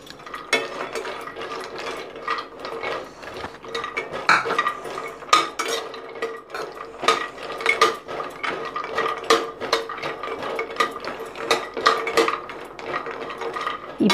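Almonds and cashews are dry-roasted in a pan, stirred with a spoon that produces a busy stream of clattering, rattling and scraping clicks, close and uneven in loudness, with no voices.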